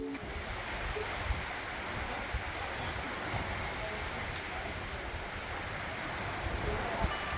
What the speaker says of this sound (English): But first, the downpour.